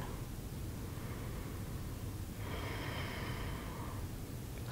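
Slow, steady breathing during a beginner yoga stretch. A soft, airy exhale swells in the middle and fades, close and quiet, with no talking.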